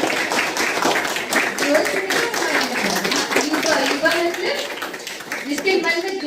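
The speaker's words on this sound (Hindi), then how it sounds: "जोरदार तालियां।" Audience applause at a youth day speech event, a loud, dense patter of many hands clapping at a brisk rhythm, with voices speaking and calling out over it.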